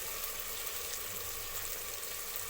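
Spice paste (masala) sizzles steadily while being stirred in a pan for Bengali chicken curry, a close, even frying hiss with no talk.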